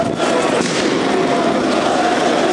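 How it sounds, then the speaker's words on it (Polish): Dense, continuous crackling bangs of rubber bullet gunshots fire during a crowded street march, loud and close, blending into a steady roar with no clear gaps between shots. "To były strzały z y, gumowego."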